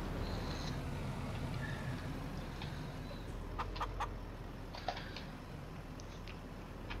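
Chickens cluck softly inside a chicken coop in Farming Simulator 19, with several scattered clucks and brief ticking sounds over a steady low background hum, fairly faint and with no talking.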